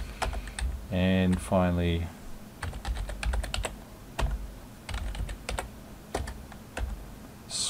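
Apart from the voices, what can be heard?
typing on a computer keyboard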